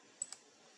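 Two sharp, quiet computer mouse clicks in close succession, near and alone in a silent room.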